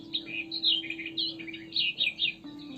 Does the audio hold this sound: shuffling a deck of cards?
no